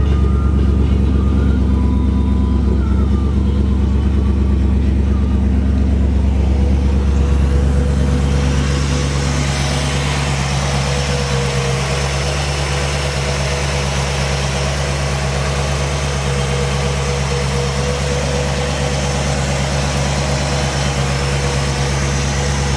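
A rebuilt 348 Tri-Power V8 in a 1958 Chevrolet Bel Air idles steadily with a deep, even rumble; partway through the tone brightens as the engine note shifts and settles into a smoother idle.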